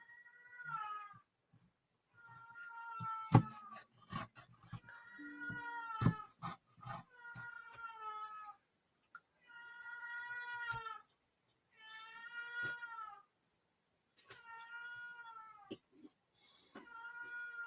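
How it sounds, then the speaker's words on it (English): A cat meows repeatedly and insistently, long drawn-out cries in a loose series with short pauses, close and fairly loud, with a few clatters in between. "If you guys can't hear that cat, I would be surprised."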